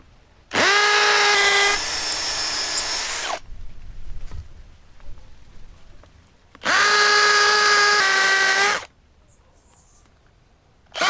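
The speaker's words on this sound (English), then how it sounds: "now I'm just gonna drill the holes" A cordless power drill whines at high speed in two long bursts while drilling holes, each a couple of seconds, separated by a quiet pause with faint handling noise.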